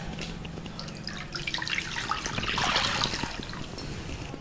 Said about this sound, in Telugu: కంద ఉడకడానికి సరిపడా నీళ్లు వేసుకుందాం.